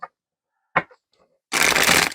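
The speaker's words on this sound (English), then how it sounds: "let's do this last shuffle, cut the cards" Tarot cards being shuffled in a single dense riffle burst lasting under a second, preceded by a few soft taps and card handling sounds, close and fairly loud.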